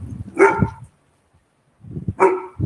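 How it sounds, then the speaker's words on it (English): A dog barks twice, each a short sharp bark with a low yip-like tail, separated by about a second of quiet. "Got a doggy over here too."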